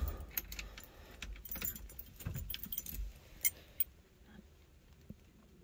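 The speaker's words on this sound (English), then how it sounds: "At least they're genuine AMC keys." Original AMC key set from a 1976 AMC Gremlin jangling up close, with bright metallic clinks and rattles over a low rumble, a few sharp clinks standing out near the end.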